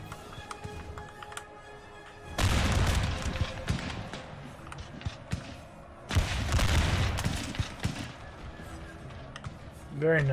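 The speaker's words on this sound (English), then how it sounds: "Nice little volley." Massed musket volleys from line infantry in the Napoleonic battle game Napoleon: Total War, two loud crackling bursts of overlapping shots a few seconds apart, rolling over a low battlefield din with someone speaking over it.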